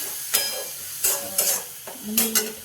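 Phodni tempering for a Marathi drumstick curry crackles in hot oil with spices, in several distinct sizzling bursts with quieter gaps between, close and fairly loud.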